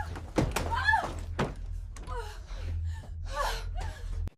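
A door slams hard with a heavy thunk that rattles its frame, loud and close, amid gasping breaths and agitated vocal sounds in a tense scene.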